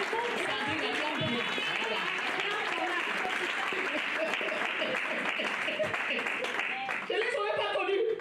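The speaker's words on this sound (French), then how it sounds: "Can we clap for her?" A church congregation applauds steadily and loudly throughout, a dense wash of clapping with crowd voices mixed in and some cheering toward the end.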